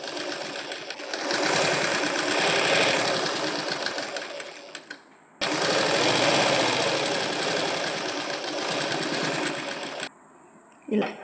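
A sewing machine stitches a small double-folded fabric hem in two long, fast whirring runs separated by a short pause, close and loud, with a faint voice in the background.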